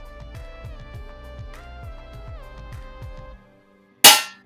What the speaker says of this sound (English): The marble should make a nice sound like this.